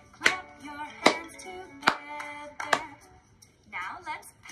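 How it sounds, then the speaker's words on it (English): Four sharp hand claps land at a steady, slow beat, close and crisp, while an adult voice sings or chants between them in a children's movement activity. "Clap your hands together."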